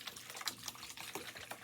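Saved fish tank water, fouled with fish waste, poured into a bowl while a Brugmansia suaveolens is repotted; a brief, close splashing trickle with uneven bursts and no talking.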